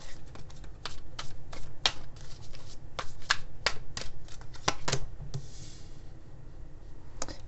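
A deck of tarot cards being shuffled, with quick crisp riffling bursts and slaps in an irregular rhythm, close and fairly quiet.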